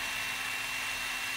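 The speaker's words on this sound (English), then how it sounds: "put your drill right on the edge and just go back and forth." A small drill grinds steadily against the plastic mid-level spreader of a Manfrotto 546B tripod, cutting a slot with a continuous high whine, close and unbroken, with no talking.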